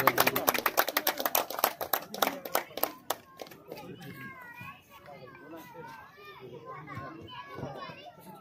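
An audience at a police passing-out parade claps loudly in a quick, even rhythm for about three seconds. The clapping then fades into a busy murmur of voices and chatter, with children's voices standing out.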